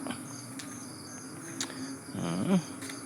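Night chorus of crickets buzzing steadily, with a couple of low throaty frog croaks near the end.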